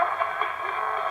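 Steady, hissy spirit box radio static with a faint choppy wavering as the receiver sweeps through stations, continuous and fairly loud with no voices.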